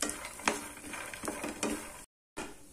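Grated coconut being lightly roasted and stirred in a pan for groundnut chutney, with a soft scraping sizzle and a few louder spoon strokes, then a short silent break before the stirring resumes.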